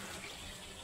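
Steady broadband rush of clean water flowing in plenty, as if poured or running from a tap while being fetched, continuous and fairly close with no voices.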